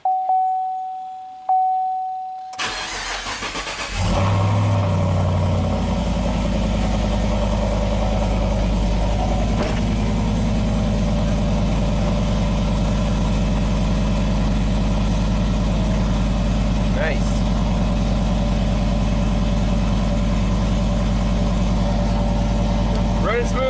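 A junkyard 2014 GMC Sierra pickup engine with a lifter fault cranks and catches after a few quiet seconds, then settles into a loud, steady, rumbling idle that runs on up close.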